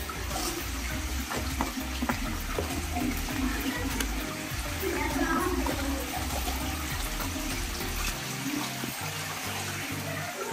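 Water rushes and trickles steadily through the passages of the Isko cave near Barkagaon in Hazaribagh, a continuous near gurgle that lasts throughout.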